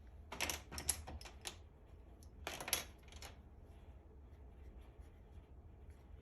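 A pencil sketches a face on paper in a few quick scratchy strokes, then a longer burst of drawing, heard close and fairly faint over a low steady background hum.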